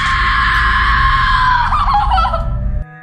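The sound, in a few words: woman screaming in terror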